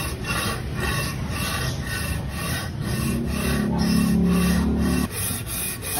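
Steady abrasive rubbing and rasping as an engine cylinder head and engine block are resurfaced, with a continuous scraping texture, a low hum swelling midway, and no voices.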